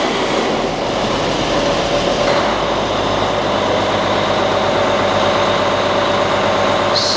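A Caterpillar diesel engine runs at steady idle, a loud continuous rumbling drone with a gritty, rough edge that stays constant throughout, heard close up with no talking.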